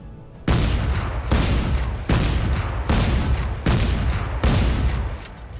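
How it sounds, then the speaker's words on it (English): A shotgun in the video game Dead Space 3 fires in quick succession, seven loud booming blasts at a steady fast rhythm, each one ringing into the next. "let's take a look at the shotgun, and you'll notice that it has a very high firing rate"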